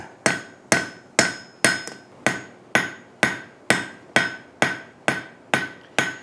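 A hammer strikes hot iron fourteen times in a steady rhythm as the edges of a pintle hinge are forged, each blow a sharp, ringing clang that decays quickly.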